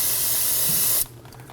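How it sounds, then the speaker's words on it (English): A steady, loud aerosol spray of brake-cleaning solvent hisses continuously for about a second over spilled brake fluid on a Toyota Camry's rear brakes, then cuts off abruptly, leaving quiet room noise. "brake fluid is corrosive, so you definitely want to use some spray solvent"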